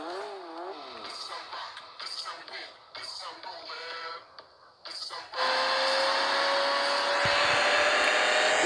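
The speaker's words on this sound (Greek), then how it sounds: "Ένα γρήγορα αμάξι τρέχει." A fast car speeds along a road, its loud, steady engine roar and rushing noise arriving suddenly and holding after several seconds of voices and quieter sounds.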